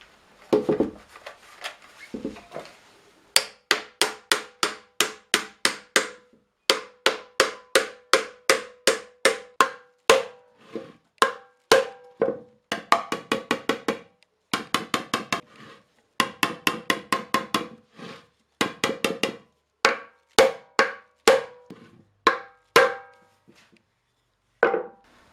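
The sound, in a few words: installing a new metal hoop on an oak barrel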